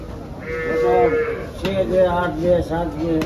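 Deep, drawn-out lowing calls from water buffalo at a livestock market in Dhule, several moans in a row, close by and fairly loud.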